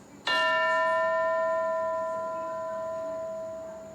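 A single school bell strikes once with a clear metallic ring, loud and close, its bright tone sustaining and slowly fading over several seconds with nothing else heard.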